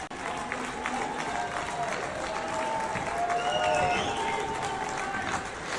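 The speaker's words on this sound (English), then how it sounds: "the people that are clapping are his own people from Israel" A crowd of Israeli supporters applauds Netanyahu, steady mid-level clapping spread evenly throughout with voices and chatter mixed in, heard as played back from a recording.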